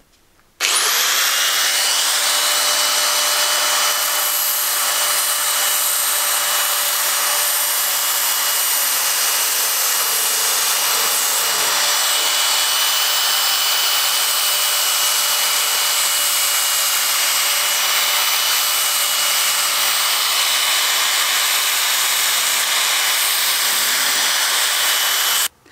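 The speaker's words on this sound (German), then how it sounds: "ich habe auch gleich die Ränder sauber geschliffen, damit man beim Schweißen vernünftigen Kontakt hat" A power tool grinds and deburrs sheet metal edges during rust repair on a BMW E36 325i body, a loud, steady high-pitched whine running continuously almost the whole time with no voices.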